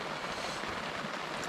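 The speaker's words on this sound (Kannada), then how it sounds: "ಆಚೆ ಕಡೆ ಫ್ರೆಂಡ್ಸ್ ಮಳೆ ಸ್ಟಾರ್ಟ್ ಆಗೋಗಿದೆ" Rain begins to fall over a forest campsite during drizzly camping, a soft, even hiss of drops spread across the whole moment with no voices.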